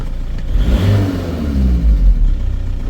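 A 2.0 SDI diesel VW Caddy van, just fitted with a new clutch, runs loudly and close by, its engine note rising and falling in a low rumbling rev with a faint whirring on top.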